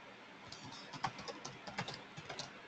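Keys clatter on a computer keyboard as a SQL query is entered, a quick irregular run of soft clicks at close range, fairly quiet, with no speech.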